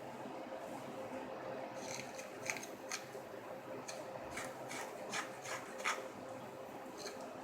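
A file rasps a bevel onto the blade of a maple wood bowl scraper, giving short, quiet, uneven strokes close by, with faint room noise between them and no talk.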